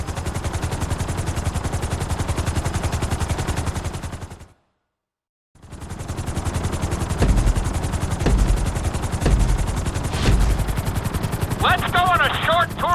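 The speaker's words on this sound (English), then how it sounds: "we're gonna put you in a helicopter for this lesson" Helicopter in the GTA V video game during a flight school lesson, a loud, steady rotor chop that cuts out briefly and returns, with thuds and a short electronic game tone near the end.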